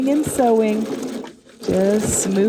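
A sewing machine runs in two bursts of rapid stitching on gathered fabric, with a short pause between, while a person talks over it.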